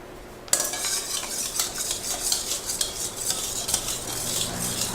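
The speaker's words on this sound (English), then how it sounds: "she's carefully stirring together our liquid ingredients" Liquid donut ingredients stirred together in a bowl, a spoon clinking and scraping rhythmically against the bowl, close and fairly loud, no voices.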